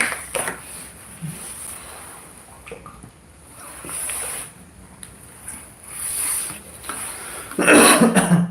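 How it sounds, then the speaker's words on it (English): A person with a cold coughs a few times, short rough bursts spread across quiet stretches with some soft rustling, the loudest cough near the end. "I'm having cough and cold these days"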